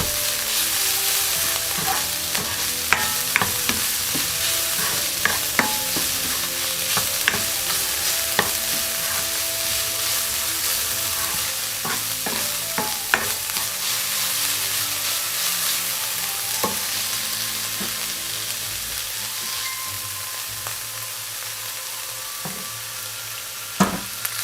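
Garlic and ginger frying in oil in a pan, a steady close sizzle throughout with frequent scrapes and clinks of a spoon stirring against the pan.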